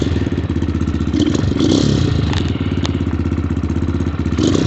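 A 250cc dirt bike with a fan-boosted air intake idles steadily to warm up, a loud, close, rapid pulsing engine putter with a few light clanks and no talk.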